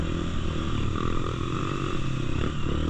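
A trail motorcycle rides a rough mountain track at Mount Bromo, its engine a loud, steady, close droning roar throughout with no pauses.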